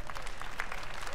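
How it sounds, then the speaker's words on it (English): Steady applause from a crowd, dense and continuous clapping throughout the short stretch, moderately loud. "Let's give them all a round of applause."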